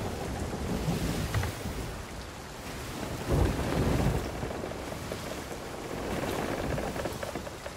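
A thunderstorm in a video game: continuous heavy rain hiss with low thunder rumbles swelling in the middle, loud and alone without talk.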